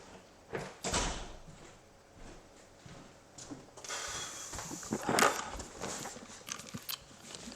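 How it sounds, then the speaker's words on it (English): A door closing in the video game Aveyond, a short soft thud followed by quieter game sounds, with no talk. "Let me close the door in case it's something not good."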